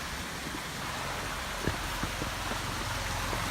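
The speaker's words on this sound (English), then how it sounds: "It's a nice little freshwater creek." A small freshwater creek on a hiking trail rushes with a steady, soft broadband wash of flowing water, a few light splashes and drips rising briefly above the constant murmur.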